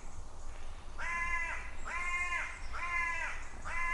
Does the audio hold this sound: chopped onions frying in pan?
no